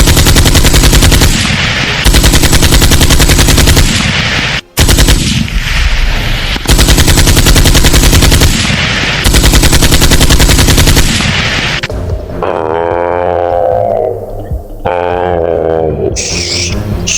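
Loud, close bursts of rapid machine gun fire in a video game with a giant village anomaly, sustained volleys broken by short gaps, then a stretch where an excited voice talks over the shooting.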